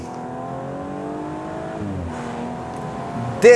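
A 2021 Audi S5 Sportback engine hums steadily, then revs with rising pitch, ending in a sudden loud burst.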